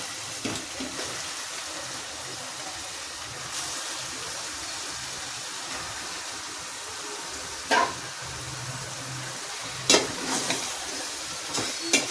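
Washed chicken pieces hit hot oil for a home-style chicken curry and fry with a steady low sizzle, broken by a few sharp spatters and stirring clatters.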